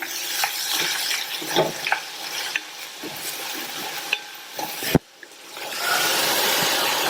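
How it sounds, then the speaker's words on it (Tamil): Chopped chayote sautéing in a pan as a spoon stirs it, with a soft sizzle broken by scraping strokes and sharp clinks of the utensil against the pan, and one loud knock near the end. "கட் பண்ணி வச்ச சௌசௌவை சேர்க்கிறேன். இந்த காய் 2 நிமிஷம் போல வதங்கட்டும்."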